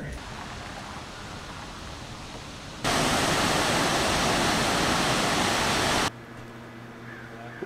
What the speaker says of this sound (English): we're right on the Deschutes River